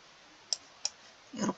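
A Ctrl and tilde keyboard shortcut pressed on a computer during spreadsheet work: two sharp, close key clicks spaced apart, then a heavier clattering press and one more click.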